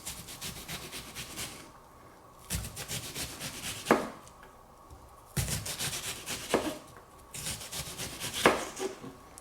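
A knife cuts through an onion on a cutting board in bursts of close, quiet rasping strokes separated by short pauses, with a few sharper taps against the board.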